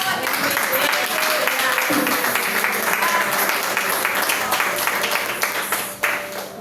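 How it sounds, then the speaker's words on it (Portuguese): Congregation in a church clapping steadily and continuously, a dense wash of applause that tapers slightly near the end. "As palmas é para o Senhor."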